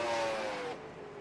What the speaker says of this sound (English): you can hear guys revving.